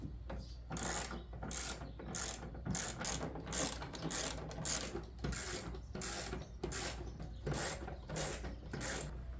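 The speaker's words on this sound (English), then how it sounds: "Then we use our 10mm socket and ratchet, and you're gonna want to tilt it down as you do this so that when you loosen these bolts" A 10mm socket ratchet loosens bolts on the wing of a 2015 Chevrolet Camaro LT RS, giving rapid, repeated pawl clicks in uneven bursts, faint but close, with no voices.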